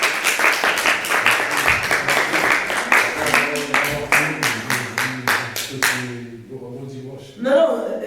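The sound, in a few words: congregation applauding in church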